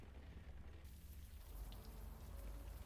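Steady rain in the video game Unavowed, a broad soft hiss that fills the short moment evenly at moderate level, with no talking over it.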